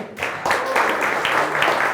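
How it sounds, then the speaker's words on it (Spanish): Brief, dense applause from an evening audience welcomes a guest speaker, a consultant, at a youth gathering; a steady wash of many clapping hands, fairly loud and close, with voices mixed underneath. "les pido un fuerte aplauso para él"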